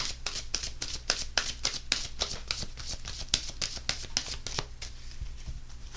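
A deck of angel answer cards is shuffled by hand in steady, rapid riffling bursts, close and crisp, repeating for several seconds with no talking.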